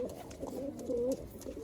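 A Punjabi Malwai pigeon coos in soft, rolling phrases, close and fairly quiet, with steady low background noise and no talking.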